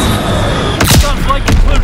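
Bombs from an enemy bombing run explode in the Call of Duty WWII video game, two heavy booming blasts with rumbling tails landing over steady background battle noise, loud and close, with a radio-style voice faintly in the mix.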